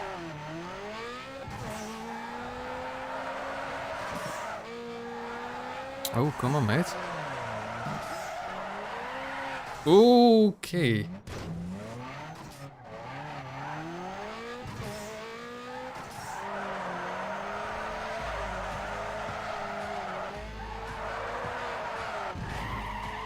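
A Nissan Skyline races in Need for Speed Underground 2, its engine droning and revving while the tires squeal through repeated skids, with a few short spoken remarks from a man over the game sound.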